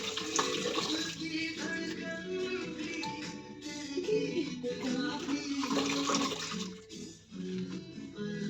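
Tap water running and splashing while fenugreek leaves are rinsed in a kitchen, a continuous close rushing stream with a brief dip near the end.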